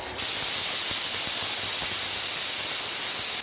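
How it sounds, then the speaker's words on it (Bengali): A pressure cooker whistle releases steam as a loud, continuous high hiss that runs unbroken from start to end. "প্রেসার কুকারে 2 সিটি"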